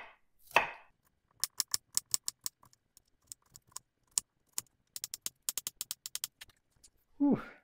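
An onion is chopped with a knife on an acacia end grain wood cutting board, sharp close knocks coming in quick bursts of several strokes with brief pauses, a short spoken exclamation at the start and end.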